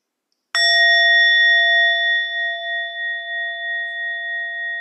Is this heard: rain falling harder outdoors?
no